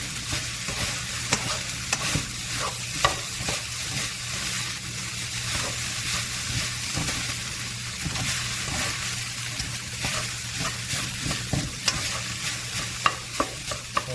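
Cajun fried rice being stirred and fried in a pan on a home stove, with a steady sizzle and repeated scraping strokes of a utensil throughout, close and continuous.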